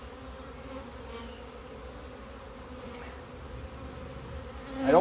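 A steady, low buzzing of many honeybees around a hive fills the air close by, continuous and even, swelling slightly louder at the very end.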